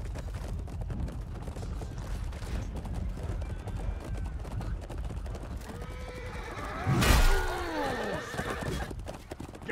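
In the video game Chivalry II, hooves clop steadily, then a horse lets out a loud, shrill neigh partway through, with rumbling action sounds around it.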